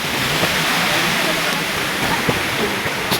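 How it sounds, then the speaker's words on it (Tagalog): Loud, steady rush of flowing water, like a nearby waterfall or stream, constant and broadband throughout with no pauses, in Buscalan, Tinglayan, Philippines. "Nakakamiss din yung tunog ng tubig dito."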